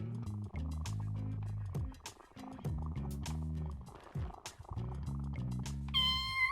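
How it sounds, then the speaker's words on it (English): A cat meows in the No More Heroes video game, with repeated meow calls layered over steady game music and a bright chime at the end. "Let's play with the kitty."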